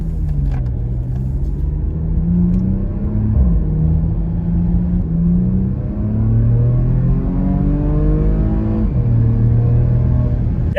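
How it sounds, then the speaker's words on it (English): A Porsche Macan S engine and exhaust drone loudly, rising in pitch through quick gear shifts with a throaty, rumbling note. "it sounds good, the shifts are quick, and there's an exhaust note to it."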